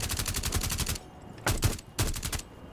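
Rapid bursts of video game gunfire with recoil crack out in a dense automatic run, break off, then return as two shorter bursts near and loud, with no talking.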